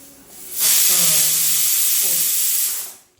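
A pressure cooker whistle lets out a loud, steady jet of steam as an intense broadband hiss, rising sharply, holding for about two seconds, then tapering off, with faint voices beneath it.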